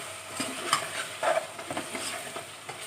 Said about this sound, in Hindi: सारे स्पाइसेस इसमें हम डाल देंगे और इसको मिक्स कर लेंगे अच्छे तरीके से